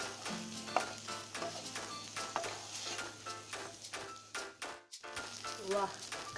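Vegetables get stirred in a pan with chili powder, biryani masala and Kashmiri red chili powder. A quiet sizzle runs underneath while a spoon makes rhythmic scraping and clinking strokes against the pan throughout, with a brief gap near the end.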